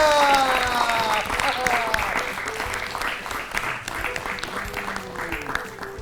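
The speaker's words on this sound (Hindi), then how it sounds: "बिल्कुल सही जवाब, हो जाए जोरदार तालियां।" Loud audience applause on a school quiz show, a dense burst of clapping that stays strong and then eases slightly, mixed with tonal sounds and voices.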